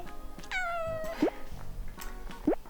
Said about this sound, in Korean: 우리 루루 행복하면 야옹해.